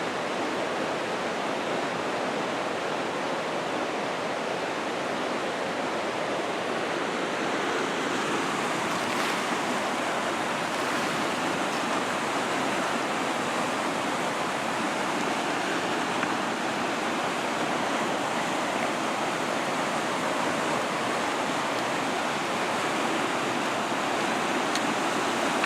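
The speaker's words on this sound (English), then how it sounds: "You can see that little step falls in there." A small stepped waterfall pours into a deep gorge about 50 feet below, a constant distant roar of rushing water with a little wind, steady and unbroken throughout.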